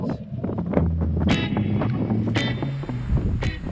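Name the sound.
wind blowing across the microphone on a rainy walk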